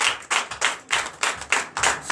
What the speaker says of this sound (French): Donnez l'acclamation au Seigneur Jésus.